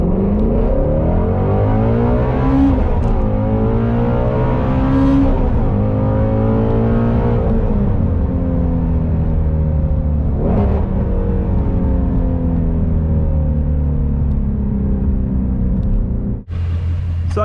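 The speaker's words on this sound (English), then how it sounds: "We'll just go through the gears up to third gear real quick." Ford Mustang Shelby GT350 engine pulls hard and loud, its pitch climbing through the gears up to third with short breaks at each shift, steady and close with no talk over it.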